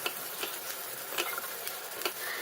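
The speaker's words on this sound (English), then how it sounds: "we're going to add our light green chili and fry the chili well" Light green chili fries with onion in a pan, giving a soft, steady sizzle under light, irregular scraping clicks of stirring, quiet and close.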